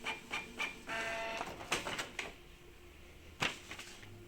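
A Canon G3411 inkjet printer prints a test page after an ink-supply fix, with whirring feed motors, rapid mechanical print-head passes and a few sharp clunks close by, no voices heard.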